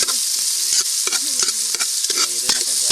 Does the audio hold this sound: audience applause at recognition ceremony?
no